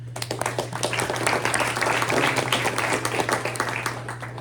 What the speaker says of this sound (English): If we can have a round of applause for him.